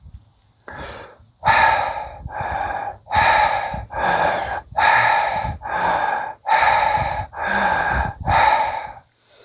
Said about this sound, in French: des respirations amples et puissantes